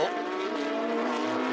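Porsche Carrera Cup race cars at a 2022 Carrera Cup Asia round in Zhuzhou, a steady loud engine drone with layered harmonic whine through a corner, a car locking up under braking, continuous and close.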